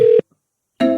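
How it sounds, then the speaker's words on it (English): An outbound phone call placed through a Twilio number sounds as a ringback tone: a short loud electronic ring burst, a gap of silence, then another ring starting, clear and close. "Once we have the calling started, you will hear the incoming call."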